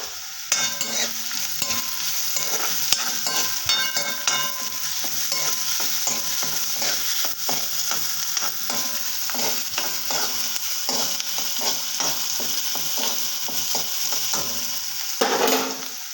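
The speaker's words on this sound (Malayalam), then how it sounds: "ഒന്ന് വഴണ്ട് വരട്ടെ." Chickpea curry ingredients sautéing in a pan, with steady frying sizzle and repeated scraping stirs of a spoon against the pan throughout, close and fairly loud.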